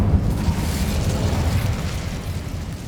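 A fire spell going off in Hogwarts Legacy, a sustained low rumbling whoosh of flame that stays loud and steady throughout with no voices.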